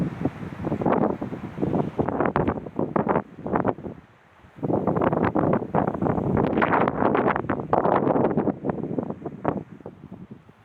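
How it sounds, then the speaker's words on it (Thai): Strong wind at Khao Krachom, a hilltop viewpoint at Thailand's border in the rainy season, buffets the microphone in loud, continuous roaring gusts, easing briefly before surging again, with no voices. "ลมแรงมากครับ"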